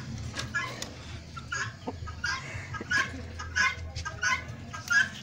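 An old rooster and hens on a farm give repeated soft clucks and short calls at close range, in irregular bursts with no talk.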